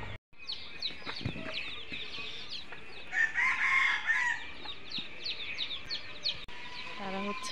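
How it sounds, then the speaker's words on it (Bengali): Chickens with small chicks, a rooster crowing once midway amid repeated clucking and high peeping calls, close by, with faint voices in the background. "মুরগির ছোট ছোট বাচ্চা"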